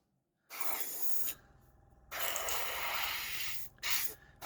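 An airbrush sprays paint onto a Gaslands model vehicle in several close hissing bursts of about a second each, separated by brief quiet pauses.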